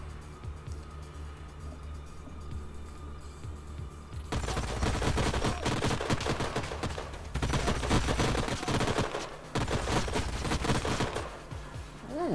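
Bursts of rapid gunfire from the sci-fi strategy game Age of Wonders: Planetfall, a quiet stretch giving way to loud, sustained volleys with brief pauses, continuing to the end.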